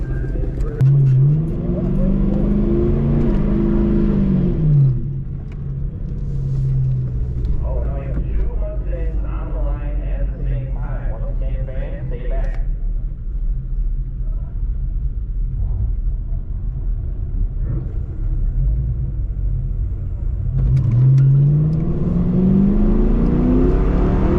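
A stock New Edge Ford Mustang with the 3-valve engine on a quarter-mile run, a loud close engine rumble rising through rev sweeps and gear changes, with talk over the middle.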